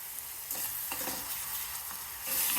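Ginger garlic paste sautéing in hot oil with ground onion in a pan for a drumstick curry, a soft continuous sizzle with scraping stirring strokes at intervals, close by.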